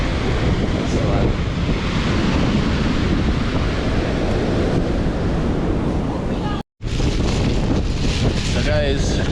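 Ocean waves at Bare Island, La Perouse, Sydney: steady loud surf wash and rushing water close by, heavily buffeted by wind noise, with a brief dropout partway through before the roar resumes.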